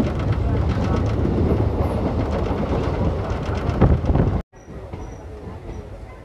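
Coimbatore–Madurai Intercity Express rumbling along the rails in southern India, a steady loud roar with clattering wheels and wind buffeting, cutting off abruptly near the end to a quieter, lighter rattle.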